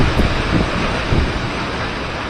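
Wind blowing outdoors beside a house and an Airstream trailer, a loud rough gusting rush against the microphone, swelling and easing in short bursts.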